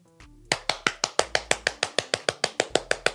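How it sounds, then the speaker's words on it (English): A single person claps their hands in a steady run of about sixteen sharp, evenly spaced claps, close and loud, with no talking. "I'm clapping for myself"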